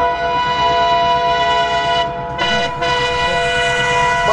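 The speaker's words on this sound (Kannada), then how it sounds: "ಟ್ರೈನ್ ಬಂತು" A train passes close by on the track, its loud sustained horn blaring over the rumble of the wagons, with a brief break in the tone partway through and no talking.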